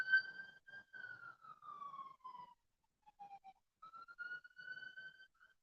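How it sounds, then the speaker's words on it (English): An ambulance siren wails with falling and rising pitch, fairly faint and distant, briefly dropping out midway before climbing again. "It's the ambulance."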